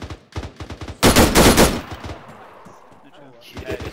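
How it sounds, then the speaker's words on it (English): In a parachute training session of a video game, a loud burst of rapid automatic gunfire erupts and then trails off into echo. Quieter single shots come before and after it, with faint talk underneath. "Firing guns."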